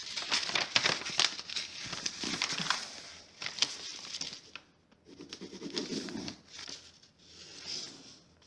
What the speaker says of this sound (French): je procède au collage de mon enveloppe